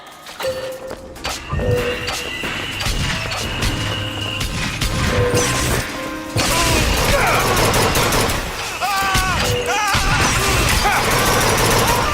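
Heavy gunfire and booming cannon blasts in the Bioshock Infinite video game, a loud dense barrage of shots and explosions running nearly throughout, with a voice shouting over the battle.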